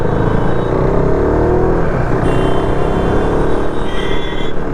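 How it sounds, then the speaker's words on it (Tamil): A motorcycle accelerates on the ECR highway, its engine a steady loud roar mixed with wind noise, with a faint high whine near the end and no voices. "ஆஸ்குலேட்டர் லைட்டாக கொடுத்தவொடனே வண்டி கிளம்புது"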